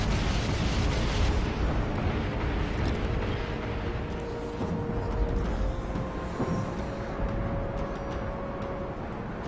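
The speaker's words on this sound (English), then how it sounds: "So that's my stasis nuke coming out." Stasis nuke weapon firing aboard a ship in the Dreadnought video game, a loud rumbling eruption-like blast that roars and slowly decays with a sustained tonal hum beneath, no voices.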